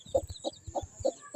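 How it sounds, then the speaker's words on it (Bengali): Domestic hens clucking in short, repeated bursts at a steady rhythm, close and moderately loud, with no voices over them, in a farmyard where a mother hen is out with her chicks. "আমাদের এই যে মুরগিগুলো দেখুন,"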